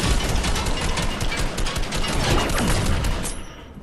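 Fortnite gunfire rattles as a dense, continuous burst of rapid automatic shots, loud and close, ending abruptly near the end.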